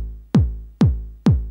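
Three punchy kick drum hits from a sample triggered on an AKG MPC Fly pad during a live looping pop set, evenly spaced, each with a deep downward-sweeping thump and short decay, alone and close.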